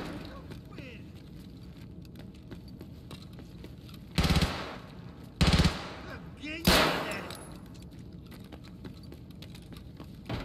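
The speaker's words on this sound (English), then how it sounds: "a lot of shooting." Gunfire in the Escape from Tarkov shooter game: three short, loud broadband bursts a second or so apart near the middle, over steady low game ambience with no talk.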